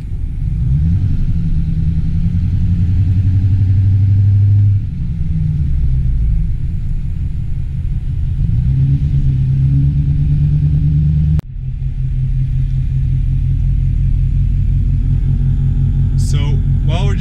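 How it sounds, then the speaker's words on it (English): Inside a car stopped in road traffic, a low engine and road rumble drones steadily, swelling slightly at times as vehicles move, with one brief dropout partway through. "So while we're just sitting here in traffic"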